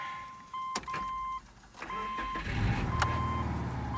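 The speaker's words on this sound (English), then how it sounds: "Started first crank" A Subaru EJ25 engine, swapped into a car with a manual gearbox, cranks briefly with chimes sounding. It catches on the first try and settles into a steady, close idle.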